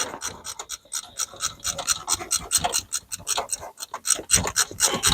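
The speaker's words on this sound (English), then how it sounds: "Loosen that nut." Wrench working a nut loose on the starter of a 2011 Honda Odyssey, a close, steady run of rapid ratcheting clicks and rasping metal strokes with no talk.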